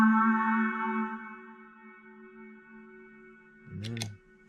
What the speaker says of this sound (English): I'm actually also going to